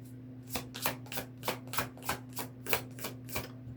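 A deck of cards being shuffled by hand for a card reading, heard as about a dozen quick, crisp riffling bursts in a steady rhythm, close and fairly quiet over a faint electrical hum.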